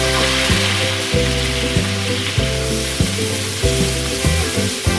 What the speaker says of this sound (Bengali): সিদ্ধ করা মাছের ডিমটাকে এবার একটু ভেজে দিচ্ছি